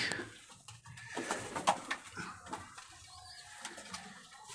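Pigeons coo softly and intermittently at close range in a loft with almond-coloured birds, low rolling calls over faint background rustle and occasional wing flutter.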